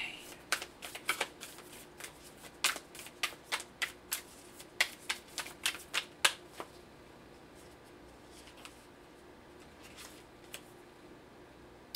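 Tarot cards being shuffled and pulled, a quick run of crisp riffling flicks and snaps close by for the first several seconds, then a few sparse card slaps against a quiet background.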